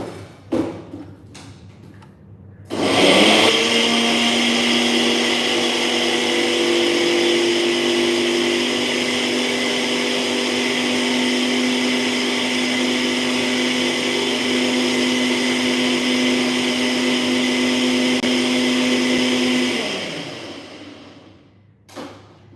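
A blender whirs through a protein shake made with protein powder, starting abruptly, then running as one loud, steady motor roar with a faint pitch shift for about seventeen seconds before winding down, with no talking.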